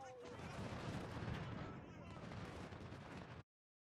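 Artillery firing canister shot in the Civil War strategy game Ultimate General: a dense, roaring wall of cannon and gunfire blasts that stays loud for over three seconds before cutting off abruptly.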